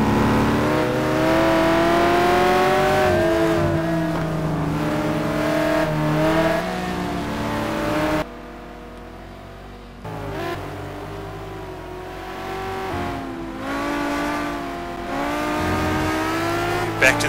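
Race cars in a sim racing video game on the Aldo Scribante circuit, engines revving up and down through gear changes with a Porsche among them, loud and steady throughout, with a brief quieter stretch partway.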